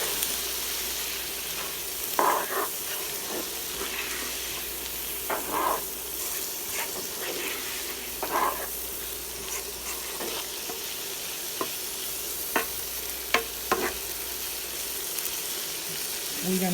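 Onions sizzling in a pan for Jamaican-style smoked herring, a soft continuous fry broken by intermittent scrapes and clinks of stirring, quiet and close throughout.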